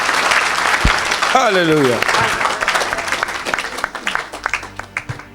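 A congregation at a church service bursts into loud applause and cheering while a preacher shouts over it; the clapping then thins into scattered claps.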